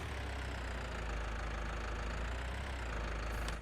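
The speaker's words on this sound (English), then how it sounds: "I don't know if that tractor seems a little bit louder." Tractor engine in Farming Simulator 19 running steadily throughout, a loud, even low rumble with mechanical knocking texture, no talk over it.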